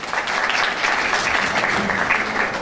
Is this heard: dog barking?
no